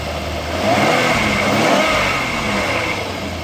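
A car engine is revved up from idle, the steady mid-toned hum swelling to a louder, held rev before easing back down, close by and with no talking.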